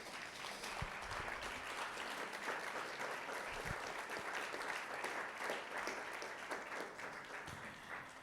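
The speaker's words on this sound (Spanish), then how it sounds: "Denle un aplauso al Señor si se lo quiere dar." A church congregation claps steadily in praise, a dense, even wash of applause heard from some distance, fairly quiet and unbroken for the whole stretch.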